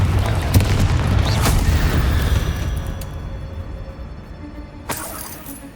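A Confringo fire spell explodes in the game Hogwarts Legacy with loud booms and shattering bursts, one after another, then fading into softer rumbles before a last sharp crack.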